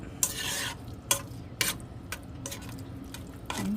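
Sausage gravy with milk stirred in a pan: scraping spoon strokes in several distinct bursts over a steady low sizzle, close and fairly loud, with no talking.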